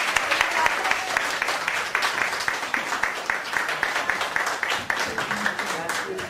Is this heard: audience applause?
yes